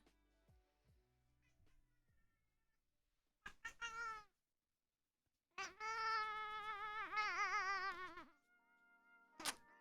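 A real cat meows close by, with a short call, then a longer, wavering, drawn-out meow, and a brief final squeak, separated by quiet gaps with faint background noise.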